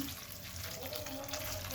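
Hot water is poured over omena, small dried fish, to rinse them, making a continuous faint splashing and rushing water sound throughout the short stretch.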